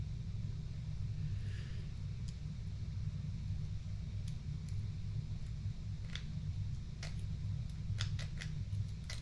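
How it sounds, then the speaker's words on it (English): Scissors snip off excess fishing line while making a hook bait keeper: a series of sharp, close clicks and snips clustering toward the end, over a steady low rumble, without speech. "Hopefully you've got sharper scissors than me."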